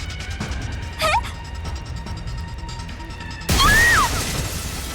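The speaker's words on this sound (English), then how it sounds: "charged into the window with all my weight. There was a sound of breaking glass" Glass window shattering as characters crash through in the video game The Hundred Line, a sharp burst of breaking glass among synthetic chirps and whooshes, with a second brighter crash near the end.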